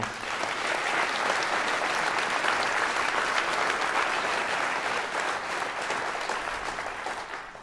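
Thunderous audience applause fills a final campaign rally, a dense, steady roar of many hands clapping close and loud throughout, easing slightly toward the end.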